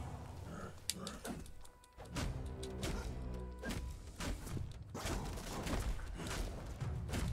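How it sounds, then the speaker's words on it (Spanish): Video game gunfire in a cave level, several sharp bursts and thuds scattered through the passage among game sounds and music, with a voice talking over parts of it. "otra vez disparos que no llegan a nada."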